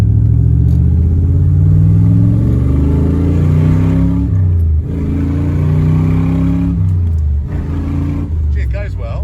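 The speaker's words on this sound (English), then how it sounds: "It's got a nice pickup, considering it's a 327 small block V8." A 1966 Corvette Stingray with a 327 small-block V8 and four-speed pulls hard, its loud, close engine note climbing through the gears in rising sweeps with brief dips at the shifts.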